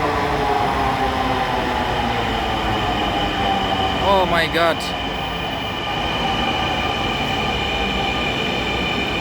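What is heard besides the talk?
train arriving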